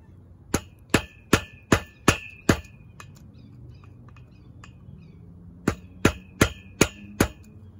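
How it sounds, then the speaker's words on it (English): Metal hammer blows ring out sharply as a rivet is hammered out of a street sign, six evenly spaced strikes, a pause, then five more in the same steady rhythm. "use the hammer and hammer it out."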